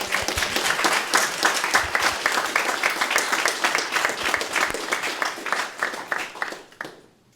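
Round of applause from an audience at a careers fair, many hands clapping in distinct close bursts that build and then thin out and fade to silence near the end.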